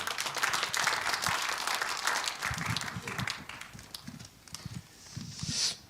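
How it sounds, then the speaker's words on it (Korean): A church gathering audience applauds, with a dense, steady wash of clapping heard faintly from across the hall. "박수 한번 보내주십시오."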